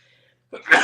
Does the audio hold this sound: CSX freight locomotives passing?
no